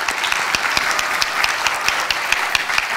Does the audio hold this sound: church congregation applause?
yes